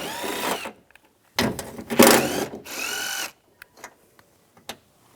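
A power tool with a 10mm socket spins out bolts from a 2004-2009 Toyota Prius rear door, three short whirring bursts separated by pauses, close and loud, followed by a few faint clicks.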